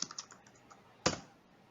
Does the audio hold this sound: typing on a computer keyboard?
yes